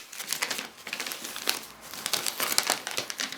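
Christmas wrapping paper crinkles and rustles as a present is folded, a dense run of crisp close crackles with brief pauses, no voices.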